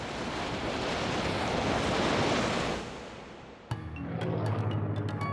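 Ocean waves wash in a loud, steady rush against the hull of a submarine moving through them, swelling and then easing. Music with tonal notes comes in near the end.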